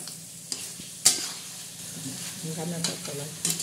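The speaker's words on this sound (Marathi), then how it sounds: "हे बघा असं परतून घ्यायचं." Chicken curry is stirred in a pan, a spatula scraping and clattering with a couple of sharp knocks over a soft background sizzle.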